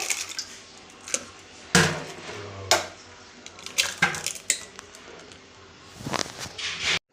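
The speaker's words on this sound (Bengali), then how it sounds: "দুটো ডিম দুটো ডিমের মধ্যে ফাটিয়ে দিয়ে দেবো" Two eggs are cracked into a mixer jar in a home kitchen, heard as sharp knocks and clinks of shell against the jar, scattered irregularly among quieter handling noises and faint background sounds.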